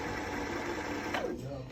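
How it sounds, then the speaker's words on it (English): A Pfaff sewing machine winds bobbin thread with a continuous fast whirring hum, close and steady, ending with a brief falling pitch as it slows; a voice speaks over it. "You are going to press the foot controller to start winding the bobbin."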